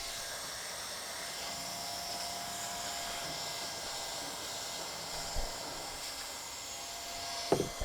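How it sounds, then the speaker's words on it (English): Hot air welder fusing TPO roofing membrane on a split pocket accessory, a steady faint high whirring hiss of the blower running continuously, with a couple of small knocks near the end. "Let me finish welding this up."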